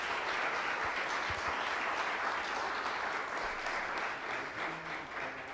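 Crowd applause at a youth talent event in Haiti, sustained clapping from a large audience at moderate distance, steady throughout and easing slightly toward the end.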